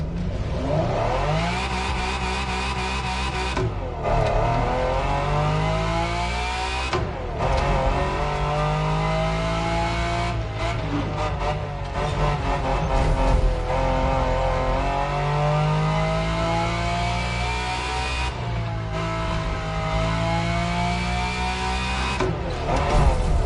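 Race cars in The Crew Motorfest rev hard and shift through gears, the engine pitch climbing and dropping repeatedly with brief breaks between pulls, loud and close throughout.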